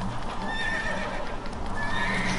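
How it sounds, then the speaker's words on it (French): A horse in The Witcher 3 video game neighs in panic with a long, shrill whinny, with hoof clip-clop and a steady game soundscape beneath it. "je l'avais pas encore eu la panique du cheval au maximum"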